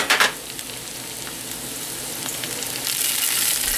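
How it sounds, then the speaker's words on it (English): Red onions and mushrooms sizzle steadily in hot oil in a pan, a constant crackling hiss with a short clatter at the start and the sizzle swelling louder toward the end. "I was frying up some red onions in oil. I just added the mushrooms now."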